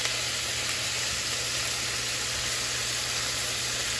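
Chicken pieces spread in one layer frying in a pan for honey garlic chicken: a steady, dense, even sizzle holding at the same level throughout, close and uninterrupted, with no talk.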